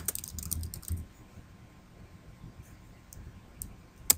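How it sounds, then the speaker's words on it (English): Keys clatter on a computer keyboard while a short word is entered into a graphics program, a handful of quiet irregular clicks over a faint hum, with a sharper tap at the end. "I'm going to type in tutorial"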